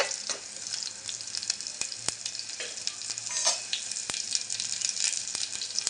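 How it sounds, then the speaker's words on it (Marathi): Cumin seeds for a tempering sizzle and crackle in hot oil in a pan, a bright continuous frying hiss broken by sharp scraping clicks of a spoon stirring at irregular intervals; no voices. "व्यवस्थित परतून घेते मी राईचा वापर नाही केला याच्यामध्ये फक्त जिऱ्याचा वापर"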